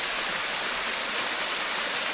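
Floodwater rushes hard through a river, a dense unbroken roar that stays loud and steady throughout with no voices over it.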